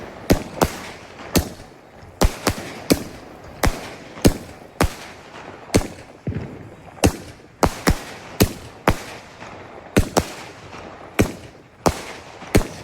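A rapid, irregular series of sharp firecracker bangs at a night fireworks show, dozens of loud close pops in quick succession, echoing outdoors.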